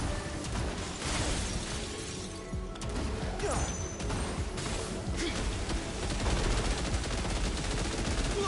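A gun-like weapon fires explosive blasts in the action game Final Fantasy XVI, Rising Tide DLC, as repeated loud booms and crackling bursts over dense game noise, with no voices.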